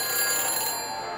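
A phone rings in the Back to the Future video game, a bright, shrill electronic trill that is loud and continuous and fades slightly toward the end, with no voices over it.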